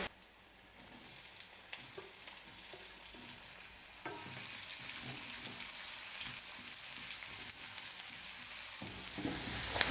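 Finely chopped onion sautés in a pan, a soft steady sizzle that grows slightly louder, with occasional stirring clicks and no voices.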